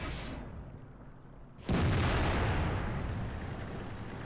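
After a quiet stretch, a loud boom of a tank gun firing an HE round in World of Tanks erupts, then a long rumbling decay of battle noise.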